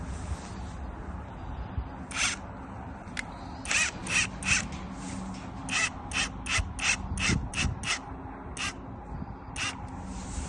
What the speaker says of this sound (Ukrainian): Є в нас саморіз ось такий 55 Закручуємо